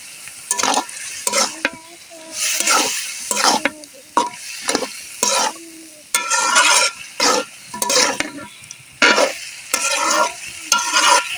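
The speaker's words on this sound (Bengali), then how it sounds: "এই যে মশলাটা আমার কষানো হয়ে গেছে, এই যে খাসির মাংসটা দিয়ে দিই" Goat meat stir-fried in a pan of whole spices sizzles close by while a spatula scrapes and stirs in repeated strokes, with short pauses between bursts and no talk.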